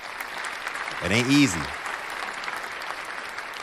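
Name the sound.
applause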